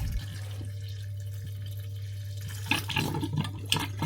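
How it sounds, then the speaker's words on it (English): Water gurgles through a newly opened isolation valve on a hot water tap supply, flushing out sediment. A low steady hum runs throughout, then faint, irregular gurgles and drips emerge near the end. "where I turn the isolation valve on, the water will gurgle through"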